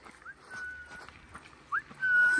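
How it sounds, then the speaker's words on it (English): A dog on a quiet street in Shimla, India, heard faintly as thin, high whine-like tones and soft scuffs, with no voices over it. "There's a dog."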